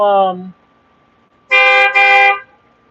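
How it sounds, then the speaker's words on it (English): A car horn honks in traffic: one short toot, a pause, then a longer double blast, loud and close. "what are you honking for?"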